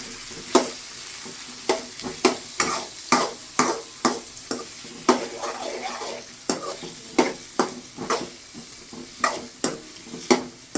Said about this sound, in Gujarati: ડુંગળી ટમેટા નખાય છે એટલે બરાબર આપણે મિક્સ કરવાનું હોય